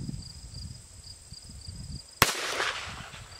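A single loud, sharp crack of a .22 Magnum rifle shot outdoors, cutting through a steady background of chirping insects, followed by a brief rolling echo.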